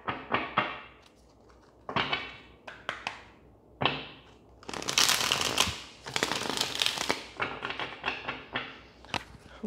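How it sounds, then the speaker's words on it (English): Crisp riffling and soft slapping of tarot cards being shuffled, in short bursts with a longer, denser flurry midway, close up and fairly quiet. "Okay, one more shuffle."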